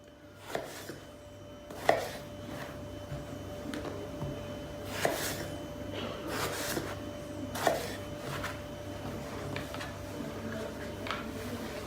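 Irregular knife chops on a cutting board as eggplant is sliced, a handful of distinct taps spread over several seconds, fairly quiet against a soft steady hum.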